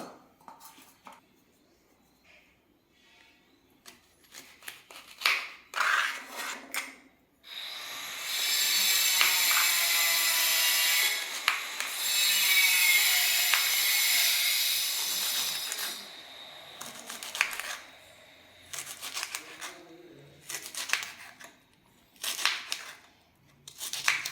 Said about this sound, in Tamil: இந்த அளவுக்கு சேப்பில் ஒரு பொடியாக நான் அந்த வெண்டைக்காயை கட் பண்ணிக்கிறேன்